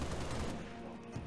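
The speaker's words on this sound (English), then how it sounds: "Shotgun!" Shotgun blasts in the video game Halo Reach, a dense burst of loud, booming gunfire that fills the short moment and fades slightly toward the end.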